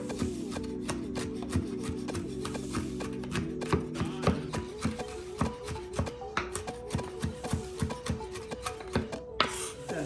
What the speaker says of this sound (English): Chop these ingredients real fine.